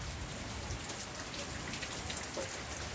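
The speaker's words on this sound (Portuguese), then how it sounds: "Chovendo no nosso sertão" Steady rain falls across the Pernambuco backcountry (sertão) during a lightning storm, a dense, continuous hiss of drops hitting the ground and surfaces, fairly close and even throughout, with no voices.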